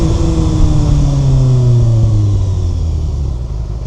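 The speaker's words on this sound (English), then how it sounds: "I love the way this thing sounds, especially when you get it up high in the revs." 2025 Kawasaki ZX-6R with a Leo Vinci LV10 slip-on exhaust: a loud, close engine note holds steady and then slides down in pitch as the revs fall, with a deep rumble underneath.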